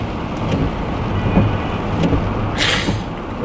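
Rain begins falling outdoors beside a store parking lot, a steady dense wash of patter with a passing vehicle hiss near the end.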